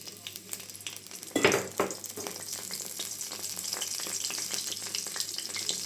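Whole spices, cinnamon, cardamom and bay leaves, dropped into hot mustard oil in a wok, setting off a loud burst of sizzling that settles into a steady close crackle with faint stirring clinks.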